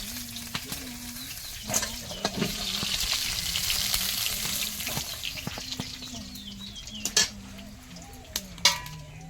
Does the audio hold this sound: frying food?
yes